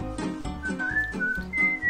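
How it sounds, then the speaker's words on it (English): A whistling potato, an ocarina, plays a short breathy melody of several gliding tones, close and clear for about two seconds. "I decided to look up a whistling potato to see if I can find any more information."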